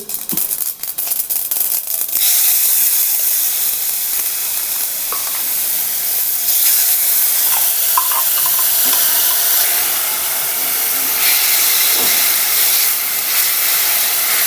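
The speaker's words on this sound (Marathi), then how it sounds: "तेल घातलं आहे मस्त असं नेहमीप्रमाणे आपल्याला हिंगाची पुडच घालायची मोहरी घालूया" Mustard seeds and asafoetida sizzle in hot oil in a pan, a loud, sustained hiss with crackling spatter bursts early on that settles into steady frying.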